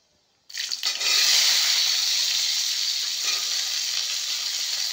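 Potatoes drop into hot oil with a dried-chili tempering, setting off a sudden loud, hissing sizzle that holds steady and bright for several seconds, close and without any voices.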